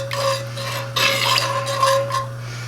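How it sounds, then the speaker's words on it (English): A spoon stirring sauce in a pot for oxtails, with close scraping and rubbing strokes against the metal in uneven bursts over a steady background hum. "So, a little bit at a time. Stir it in."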